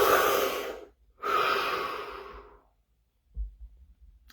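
Two long, deep breaths, each a slow airy rush close to the microphone separated by a brief pause, followed by a soft low thump near the end.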